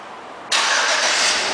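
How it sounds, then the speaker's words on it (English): A 2010 Chevrolet Avalanche Z71 4x4 fires up by remote start, with a sudden engine catch after a short quiet moment, then a steady, close idle. "and the car turns right on."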